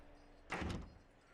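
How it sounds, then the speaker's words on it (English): A door swings shut in the horror game Outlast 2, a single muffled thud with a brief rumbling tail, heard close and alone over low background hum. "I'm gonna close the door."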